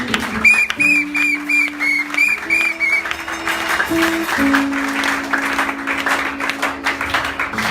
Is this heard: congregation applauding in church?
yes